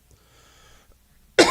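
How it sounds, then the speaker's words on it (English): A single sharp, loud cough bursts out near the microphone at the end, after a stretch of faint studio room noise. "I've had this allergy thing with a cough going on for."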